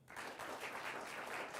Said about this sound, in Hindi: जोरदार तालियों से स्वागत करिए बीजेपी के सांसद, राष्ट्रीय प्रवक्ता डॉक्टर सुधांशु त्रिवेदी का।